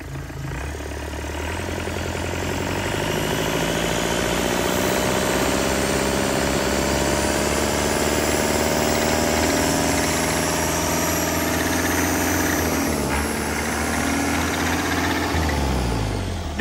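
Yanmar 4TNV98 four-cylinder diesel engine running at a steady, smooth idle, close and loud, with a slight rise in revs near the end before it winds down, with no talk.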